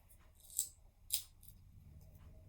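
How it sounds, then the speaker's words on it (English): Heavy cutters snipping craft sticks during an adult library craft session, two sharp, close snaps about half a second apart over a quiet room hum. "so I just cut my sticks down"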